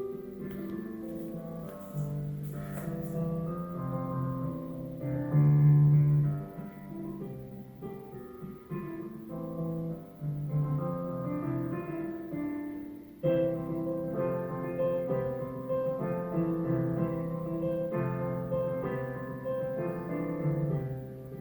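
Piano music played indoors behind a closed door, heard muffled and fairly quiet but steady, with sustained chords and melody lines running continuously and no talking.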